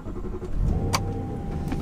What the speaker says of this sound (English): Start the engine, and a big V8 fires up under the bonnet.